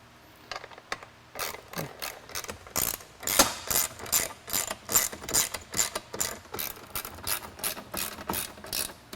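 Ratchet loosening fasteners on the side Molle panels of a four-door hard top Ford Bronco, a close run of rapid clicking bursts repeating in quick rhythmic strokes.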